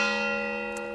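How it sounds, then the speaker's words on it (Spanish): Church bells ringing from the tower of the Iglesia de la Asunción, a steady sustained bell tone with rich ringing overtones, close and fairly loud, heard alone for a moment. "Estamos con las campanas de la Iglesia de la Asunción, de nuestra torre."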